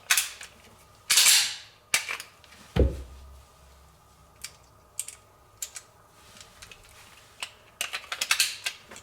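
Sharp mechanical clacks and clicks of a pistol being loaded and returned to condition zero, with a slide snap near the start and a cluster of quick close clicks toward the end.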